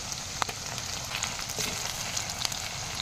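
Spice paste of ginger, garlic and onion sizzling in hot oil with cumin, a steady soft crackle and spatter with occasional sharper pops, close and alone.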